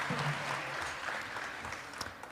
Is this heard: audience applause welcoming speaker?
yes